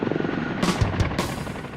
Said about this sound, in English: Jockey lands the Chinook as close to the casualties as possible